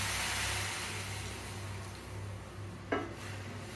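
Water pours into a pan of sautéed onion and carrot, a steady hiss and sizzle with a short sharp clink of a utensil near the end, close and alone without talk.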